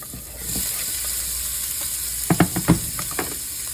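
Chopped onion hits a hot skillet with a steady hiss and sizzle, broken by a few louder crackling bursts as it lands and is moved, close and alone without talk.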